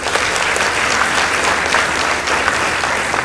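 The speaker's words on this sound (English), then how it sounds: "let's give them a round of applause." Steady, loud audience applause for a girls' high school team at a competition results announcement, dense clapping throughout with no voices over it.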